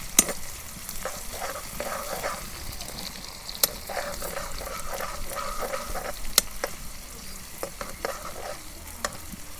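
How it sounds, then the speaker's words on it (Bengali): Chopped onions fry in hot mustard oil in a pan, a steady close sizzle broken by frequent scraping and stirring clicks from a utensil, with no talking. "তেল গরম হয়েছে, এখন পেঁয়াজ কুচি দিয়ে দিলাম।"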